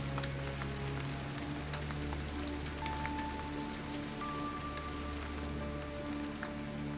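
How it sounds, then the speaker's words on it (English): Heavy rain falling at an archaeological dig site on Dinmore Hill in Herefordshire, a steady, dense patter on surfaces with scattered individual drops, accompanied by a constant low hum in the background and no talking. "the rain's going to get even worse"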